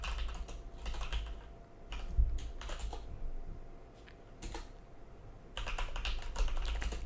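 Computer keyboard typing during PHP coding, a steady stream of quick close key clicks with short pauses between bursts, alone and without speech.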